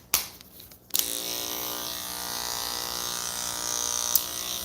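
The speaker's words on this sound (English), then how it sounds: "All right, so let's shave back here." Electric clippers shave through a matted Coton de Tulear's coat, a steady close buzz that starts after a brief pause and runs on without a break.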